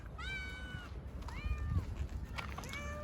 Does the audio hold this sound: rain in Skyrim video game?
no